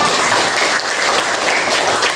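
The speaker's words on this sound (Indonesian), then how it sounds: "tepuk tangan dulu buat aku" Steady applause from a classroom group, many hands clapping together at close range, dense and even for the whole stretch with no talking.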